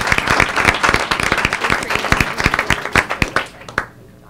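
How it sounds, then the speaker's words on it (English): A meeting audience gives a round of applause, dense rapid clapping that thins into scattered claps and fades out near the end. No voices. "if we could give John a round of applause"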